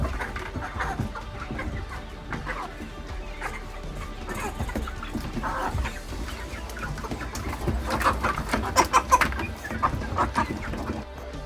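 Chickens clucking on a farm with coconut and chikoo trees, many birds chattering and clucking at once, close and busy, with louder bursts near the end and no talk.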